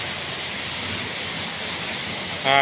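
Heavy rain pours down with water running along a road at night, a steady, dense broadband wash that holds level throughout before a brief louder burst near the end.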